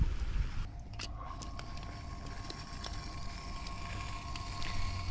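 An Oase Mud Drain 30000 pump runs steadily outdoors, a continuous low rumbling drone with a faint tonal hum and a few brief clicks, close and even throughout with some wind noise.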